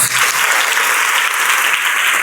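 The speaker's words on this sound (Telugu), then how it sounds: "గట్టి క్లాప్" Hostel students at a birthday greeting event burst into loud, dense applause that holds steady and fills the whole short stretch, close and even in intensity.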